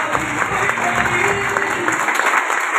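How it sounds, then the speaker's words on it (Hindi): Applause from a crowd at a motivational network marketing event, a steady dense patter that fills the whole stretch at moderate loudness with no voices on top. "और उनके लिए जोरदार तालियां।"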